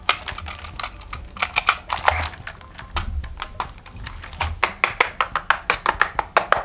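Rapid, steady typing on a Signo KB-770 mechanical keyboard with plastic body and aluminium plate, a dense run of close, crisp key clacks with no voices over them.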